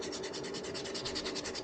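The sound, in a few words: hand sanding a wooden lure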